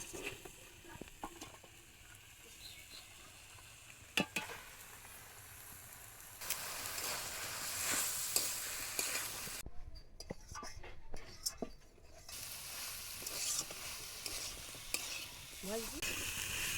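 Potato and banana flower are stirred in a frying pan: a steady scraping, rustling sizzle with a few sharp clinks of the utensil, close and moderately loud, with soft whispery noises mixed in.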